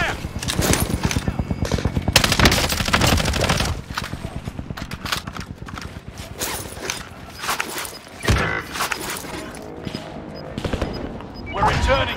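Gunfire in a Call of Duty Warzone match rattles in heavy automatic bursts and scattered single shots, loud and close at times, with pauses between exchanges, short voice chatter and footsteps mixed in.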